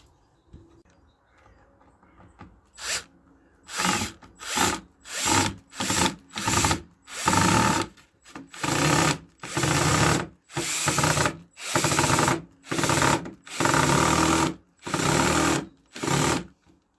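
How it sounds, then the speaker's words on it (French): A power screwdriver drives screws into the frame of a homemade garden sofa, about eleven short loud whirring bursts in a steady rhythm with brief pauses, close by and alone. "on vient la fixer avec une vis, vraiment au bord de l'assise. On y va et on visse ça."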